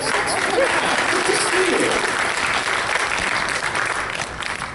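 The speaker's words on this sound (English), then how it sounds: "Let's round of applause for these folks." A convention crowd at a fan event gives sustained applause for first-time attendees, a loud, continuous roar of clapping hands with faint voices mixed in.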